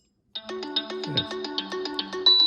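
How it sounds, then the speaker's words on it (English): A bright electronic ringtone from a TCL 20 SE smartphone plays a quick repeating melody of chiming notes through its small speaker, loud and close, starting abruptly after a moment of silence. "listen to some of the ringtones"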